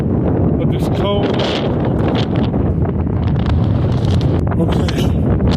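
Strong, gusty wind buffets the microphone at the vent of a volcanic cinder cone, a loud continuous roar with rumbling swells and brief rustles throughout.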